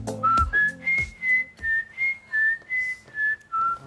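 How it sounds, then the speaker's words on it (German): A person whistles a short tune, about ten clear sustained notes in a rising then falling line, with faint clatter of a kitchen setting behind it. "Pfeift doch mal einer."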